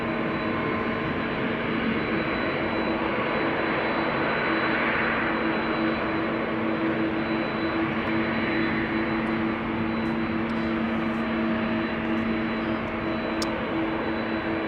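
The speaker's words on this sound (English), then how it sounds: "we are very lucky with seeing all these airplanes take off from runway" A jet airliner taking off from runway 18 left at Amsterdam Schiphol Airport, a steady broad engine roar with low droning hum held loud and constant throughout, no voices.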